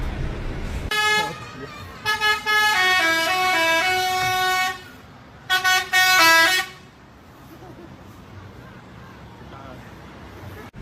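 A Tiara Mas bus at Poris Terminal plays its Basuri telolet horn: a loud, melodic multi-tone musical horn phrase in two bursts, the first longer and the second shorter, with station hubbub in the background.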